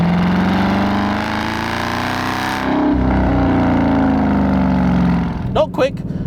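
Dodge Challenger R/T V8 engine revving gently under light acceleration, a loud steady low drone with rising pitch, followed by a couple of short sharp knocks near the end, with someone talking over it.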